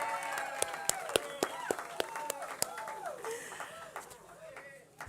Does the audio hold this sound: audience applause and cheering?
yes